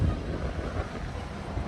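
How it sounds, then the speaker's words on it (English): Steady, loud wind rushes and buffets a microphone outdoors at Disney's Art of Animation Resort on a hot afternoon, a continuous low roar with no clear talking. "it's very windy. Nice little breeze coming over."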